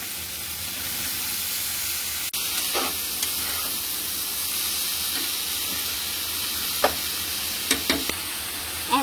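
Red amaranth greens and potato hitting hot fried masala in a pan give a steady broad sizzle, with a few sharp clicks and scrapes scattered through, close and alone without talk.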